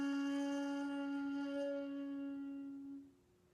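A shakuhachi bamboo flute is blown flat in the meri position, producing a single sustained breathy low note that holds steadily, then fades and cuts off near the end, played alone.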